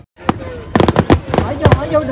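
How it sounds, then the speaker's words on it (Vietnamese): Fireworks at a July 4th parade in the United States crack in a quick series of sharp, loud pops and bursts, with people talking nearby. "bạn nghe bắn pháo hoa"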